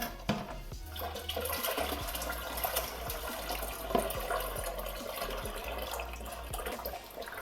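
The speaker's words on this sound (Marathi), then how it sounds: "नंतर ही चिक आहे ती ह्या डब्यात गाळणीनं गाळायचा" Liquid pours and trickles steadily as wheat starch milk, from washed and crushed wheat, is strained through a sieve into a container, a continuous watery rush with light knocks and no talk.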